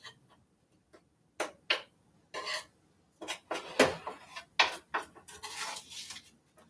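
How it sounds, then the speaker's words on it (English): Spatula or utensil scraping excess protein powder off the sides of breakfast cookies: a series of short, close scrapes and rasps at an uneven rhythm, growing more frequent toward the end. "I put too much on this one, so I'm just scraping off the sides"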